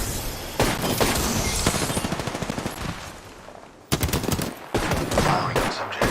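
Apex Legends gunfire: long bursts of rapid automatic fire, close and loud, broken by a brief lull before sharper renewed volleys.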